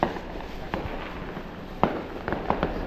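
Firecrackers exploding at a busy Chinese New Year celebration, a steady crackling din with sharper individual bangs standing out over crowd noise.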